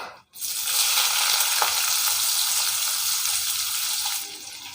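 Onions frying in hot oil for biryani produce a loud, steady, close hiss and sizzle that starts suddenly and holds evenly, easing off slightly at the end.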